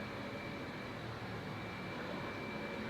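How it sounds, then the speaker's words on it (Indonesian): A water pump in a boarding house runs nonstop, giving a steady, even mechanical drone with a thin high whine, constant from start to end with no breaks and no talk. "Mesin air ini nyala terus-menerus selama 24 jam."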